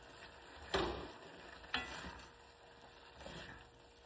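Pasta being stirred in a frying pan for tuna pasta with meatloaf, tomatoes, garlic and onion, with a faint steady sizzle under two or three soft scraping stirs.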